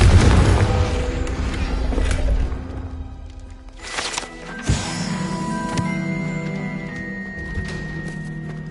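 A Confringo fire-blast spell bursts in Hogwarts Legacy with a heavy boom up front, then further thuds and whooshing impacts, with lingering magical ringing tones between the hits.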